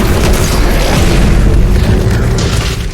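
A sticky grenade detonating in the video game DOOM Eternal, a loud, heavy boom with a deep rumbling body that sustains for the full three seconds and fades slightly at the end.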